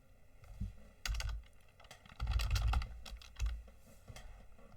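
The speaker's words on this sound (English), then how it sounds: "If I can even type properly today" Keys clack on a computer keyboard in quick irregular bursts, close and fairly quiet, with short pauses between flurries and no voices.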